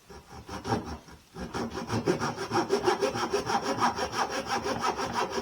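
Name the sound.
cutting little wedges in wood for a violin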